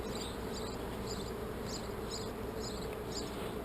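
Honey bees buzz steadily around an open hive during a nucleus colony split, a dense continuous hum with faint pulsing overtones, low in level and heard without any voices.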